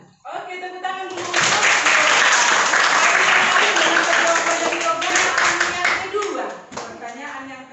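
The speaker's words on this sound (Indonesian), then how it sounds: "Oke, tepuk tangan dulu." Classroom audience at a teachers' coaching session applauding, a dense burst of clapping that swells quickly, holds loud for several seconds, then tapers off, with voices and a few notes of music or speech around it.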